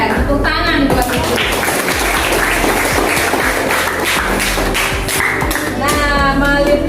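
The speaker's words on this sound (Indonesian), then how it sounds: "Tepuk tangan buat itu." Students in a classroom clap their hands together in a rough, uneven patter, mixed with thumps, shuffling and children's voices calling out.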